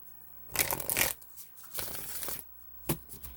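A deck of tarot cards shuffled close up: three quick riffling bursts, the first two longer and louder, a brief sharp flutter near the end, no talking.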